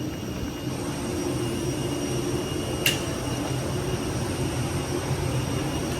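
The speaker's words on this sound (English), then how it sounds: "So it's an EasyJet plane." A small EasyJet passenger jet's engines drone as a steady, loud broadband roar heard from on board during boarding, with one brief sharp chime-like tone near the middle and no talking.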